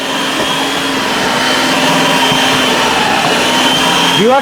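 An electric food processor whirs loudly and steadily as it chops food into fine pieces, its motor holding one continuous droning tone that rises slightly at the very end.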